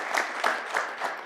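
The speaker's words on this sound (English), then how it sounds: "yes, that's worthy of a round of applause." A county forum audience breaks into a short round of applause, a steady wash of many hands clapping with a gently swelling, pulsing rhythm, fairly close and without talk over it.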